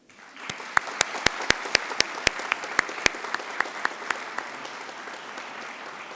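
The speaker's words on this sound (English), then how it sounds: "Graduates, please join me in applauding your loved ones" Audience applause at a December executive programs graduation ceremony, a steady wash of many hands clapping with a handful of sharp, loud individual claps standing out near the start before thinning and fading slightly.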